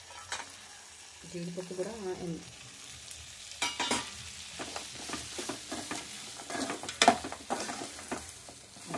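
Cashew nuts frying and being stirred in a pan while making butter chicken, with scraping stir strokes and a steady sizzle, broken by a brief voice and some scattered clinks.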